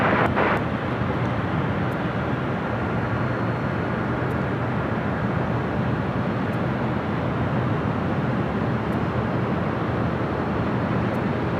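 An airliner at LAX airport roars as a steady, loud, broadband jet-engine rumble that stays constant throughout, with faint wind and no voices.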